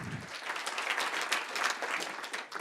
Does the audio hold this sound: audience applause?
yes